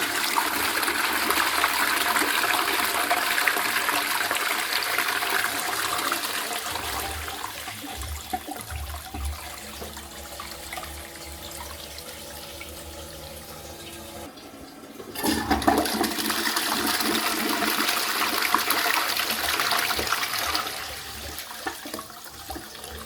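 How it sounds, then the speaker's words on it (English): A Twyford Option close-coupled, lever-operated dual-flush toilet from around 2020 being flushed; a steady rushing of water runs throughout, dips slightly, then surges again as the cistern refills. "I'll give it another flush."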